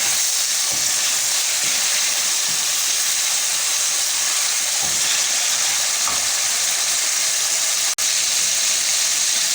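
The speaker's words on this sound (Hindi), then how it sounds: "यहाँ इस स्टेज पे आप चिकन को थोड़ा सा हाई फ्लेम पे पकाएंगे ताकि वो बहुत ज़्यादा सूखने न लग जाए।" Chicken pieces frying over a high flame in a pan of oil for chicken karahi, a steady, loud, dense sizzle and hiss that runs unbroken throughout with no voices.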